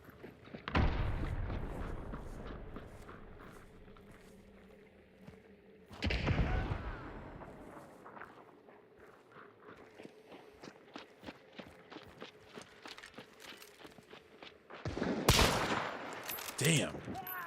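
Shotgun blasts in the game Hunt: Showdown, two loud booming shots several seconds apart and a third near the end, with footsteps and quieter movement between them.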